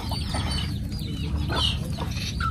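Chickens cluck steadily and close by as they feed inside a chicken coop alongside chicks, with a continuous low rustle and scratching beneath the calls.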